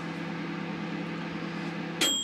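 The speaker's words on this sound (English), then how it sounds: "So it's cooking away in the microwave there." A steady microwave oven hum runs throughout as it heats soft-lure plastic, with a bright high beep tone cutting in near the end.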